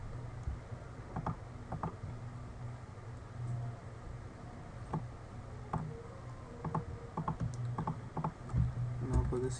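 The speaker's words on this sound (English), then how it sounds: "hit I on my keyboard for the colored picker" Soft, quiet clicking of computer keyboard keys in scattered short bursts, close up, over a faint background hum, with no talking.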